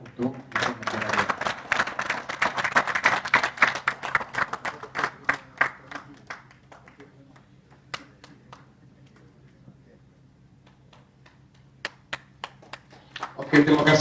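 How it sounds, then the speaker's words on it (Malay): An annual general meeting audience of a Malaysian cleaning contractors' association claps for an outgoing committee member, starting as dense clapping, thinning to scattered claps and near silence, then a few isolated claps and a brief final burst. "Satu tepukan untuk Nagaraja."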